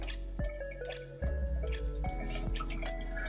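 Water is poured over coffee grounds in a pour-over brewer, with a soft trickle and gentle dripping plus faint clinks and splashes, quiet and close, with no voices.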